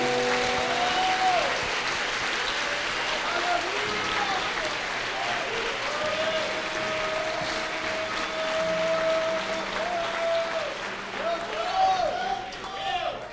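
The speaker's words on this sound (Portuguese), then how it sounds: "Dá uma salva de palmas para Jesus aí" A church congregation applauds steadily and loudly, with sustained clapping throughout while a preacher speaks over it.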